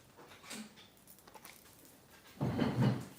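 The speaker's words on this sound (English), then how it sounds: "That's my dog dishes making all that noise." Dog dishes rattle and clank on a floor indoors: faint scattered taps at first, then a short burst of louder metallic clattering near the end.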